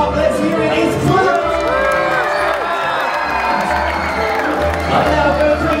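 On the Disney Dream cruise ship, an excited crowd greets Pluto with continuous cheering, whoops, children's shouts and scattered clapping, loud and close throughout.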